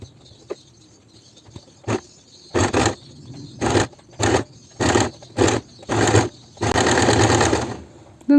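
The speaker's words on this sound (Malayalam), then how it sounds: "ഇതിൻ്റെ മുകളിൽ കൂടെ ഇങ്ങനെ മടക്കിയിട്ട് സ്റ്റിച്ച് ചെയ്ത് കൊടുക്കുക" A sewing machine stitches a folded boat neckline in a series of short, separate runs, about eight close bursts with brief pauses between. The last run is longer and continuous.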